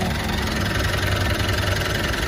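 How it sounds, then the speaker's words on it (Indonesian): A 2016 Mitsubishi Pajero Sport Dakar with a 2.4-litre 4N15 diesel engine idles in a steady, continuous low rumble with an even mechanical hum throughout, close by and with no talking. "Ini mesinnya belum pernah turun ya, masih segel, suaranya masih halus dan tidak ngobos."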